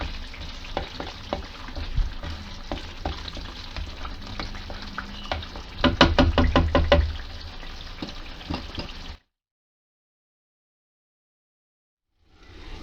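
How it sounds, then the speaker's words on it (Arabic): Tomatoes with spices fry in a pan for spicy Nabeul-style shakshuka, a dense close sizzle with stirring scrapes and a louder burst midway, then it cuts to silence before faint sound returns. "خليوها تتقلى شويه"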